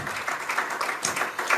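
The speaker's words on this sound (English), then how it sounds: "If you want to clap, clap." Audience applause at a gathering of accounting professionals, a dense steady patter of many hands clapping with no voices over it.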